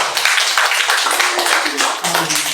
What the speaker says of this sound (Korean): 박수 한번 쳐야죠